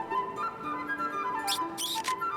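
A baby monkey in a snowy Hokkaido or Honshu winter landscape lets out a few short, high squeaks like a rubber squeeze toy, two close bursts near the end over a steady background hum.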